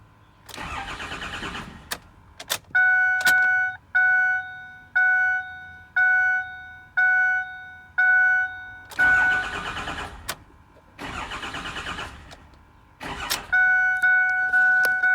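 A 6.4 diesel truck engine cranks repeatedly without catching, giving several separate bursts of starter churning, each cut off, with electronic chimes and beeps sounding between attempts, close and fairly loud.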